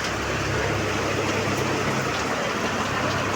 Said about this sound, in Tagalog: Lakas ng ulan na yun.